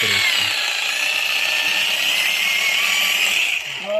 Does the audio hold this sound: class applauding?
no